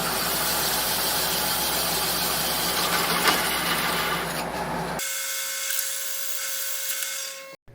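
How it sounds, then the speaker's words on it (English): Hole saws bore through brass slugs with a loud, steady grinding drone. After about five seconds the lower rumble drops away, leaving a thinner high whine that cuts off at the end. "I'll be using these 3 hole saws to cut out our various brass slugs."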